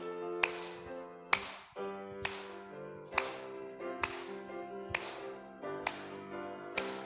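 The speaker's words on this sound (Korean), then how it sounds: "우리 박수 치면서 하겠습니다." A church congregation claps in a steady beat, roughly one clap each second, along with a sung hymn during a Sunday worship service. The singing and music carry on continuously underneath the claps.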